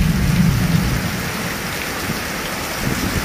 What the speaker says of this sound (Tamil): அடமழை ஸ்டார்ட் ஆன மாதிரிக்கே இருக்குங்க.